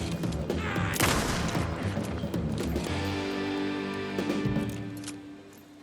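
Rifle gunfire in the Alan Wake game, a rapid burst of sharp shots up front followed by a few scattered cracks over a rumbling background, loud and close with no speech.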